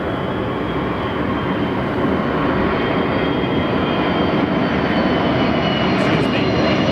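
Steady, loud broadband roar of a Qantas airliner's jet engines at Los Angeles International Airport, continuous and close throughout with no clear rise or fade.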